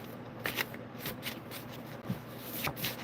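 Tarot cards are handled and shuffled during an ancestral reading: a steady papery riffling and flicking of the deck, with soft slaps and rustles repeating close by and no talk over it.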